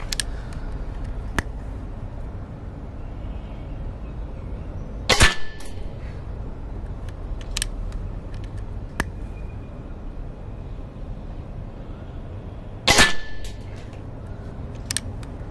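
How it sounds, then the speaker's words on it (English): Precihole PX100 PCP Achilles air rifle firing quick shots, several sharp isolated cracks spaced seconds apart, two louder ones standing out over a quiet outdoor background. "They're all quick fired shots."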